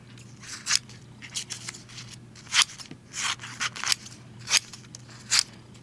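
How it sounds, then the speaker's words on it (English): Scissors snip through quilted fabric, cutting it into sections: about nine sharp, crisp cuts in an uneven rhythm, close and clear with no talking. "we're going to take our scissors and we're going to cut those into 4 different sections"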